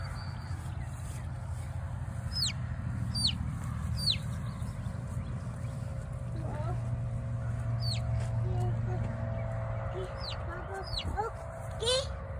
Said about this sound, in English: Can you set the baby chicken down for a little bit?